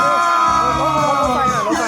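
Wedding guests cheer and whoop for the bride, a loud, sustained crowd roar with shouted voices over a steady background tone.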